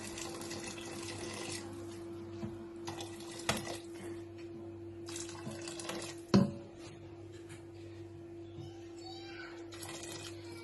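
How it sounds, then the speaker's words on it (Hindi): Hot water poured into rice in a pot for Saudi mandi, heard as intermittent splashing and gushing bursts with a clatter of cookware partway through, fairly quiet overall. "ये हमने इसमें गर्म करके पानी डाल दिया।"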